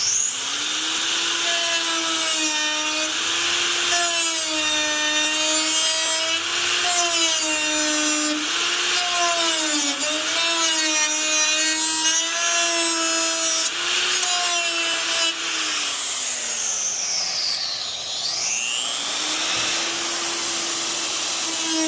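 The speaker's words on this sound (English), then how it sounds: "I'm going to touch all this jagged stuff up with the handheld belt sander." A handheld belt sander grinds steadily across jagged wood, its loud whining motor holding a constant droning pitch for most of the run, then dipping briefly as it slows and spins back up near the end.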